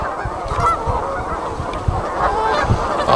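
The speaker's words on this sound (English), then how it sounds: "A whole pocket of golden-eye ducks." A small flock of six golden-eye ducks calls outdoors in Lethbridge in winter, giving scattered honking notes over a constant background rush of wind or water.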